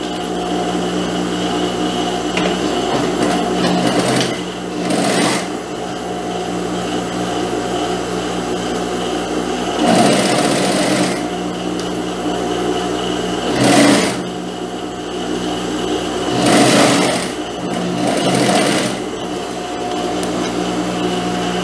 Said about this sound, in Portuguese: Encaixando aqui, ó, certinho, direito com direito e passando a costura.